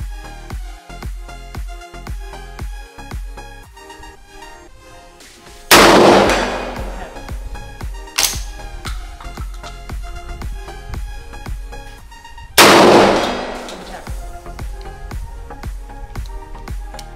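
Two loud shotgun blasts, each followed by a booming decay, break through a steady, busy rhythmic background of music during long-range shotgun shooting.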